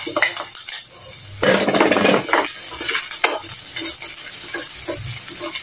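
Garlic and onion sizzle and fry in a pan for afritada while being stirred, with a loud burst of spattering frying near the start and scraping, clinking utensil strokes throughout.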